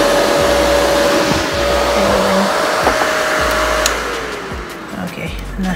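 A pink nail dust collector runs with a steady loud suction whir that holds for several seconds, its pitch shifting slightly and easing off near the end, with faint handling noises underneath.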